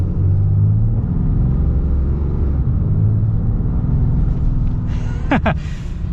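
A 2022 Ram 3500 Laramie Mega Cab pickup with a high-output Cummins diesel accelerates out of a turn, heard from inside as a loud, steady low rumble of engine and road noise.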